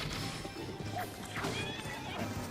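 A horse in The Legend of Zelda gives a quick neigh amid busy combat sounds, with crashes, hits and hoof-like clatter in a dense, continuous mix at moderate level.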